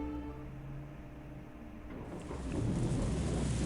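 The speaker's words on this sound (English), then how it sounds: "there was thunder in the distance and a heavy rain started pouring down" Thunder rumbles in the distance in the visual novel Higurashi When They Cry Hou, followed by a swell of heavy rain that starts pouring down and builds to a steady, broadband hiss over a low ambient backdrop.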